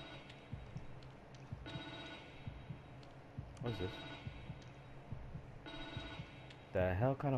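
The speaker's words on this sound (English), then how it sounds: "The hell kind of phone is that?" An old-style phone rings in the horror game The Evil Within 2, sounding three evenly spaced ring bursts against low ambient noise, then a voice speaks at the end.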